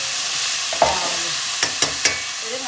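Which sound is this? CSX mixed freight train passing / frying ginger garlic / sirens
frying ginger garlic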